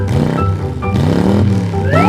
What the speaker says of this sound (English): I need to start the engine.